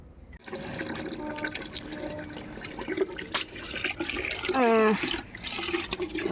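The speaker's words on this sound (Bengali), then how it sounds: "গাছে জল দেবো" Water is poured to water potted plants, a fairly close splashing and gurgling flow that starts after a short pause and carries on with shifting loudness, joined by a rising filling tone partway through.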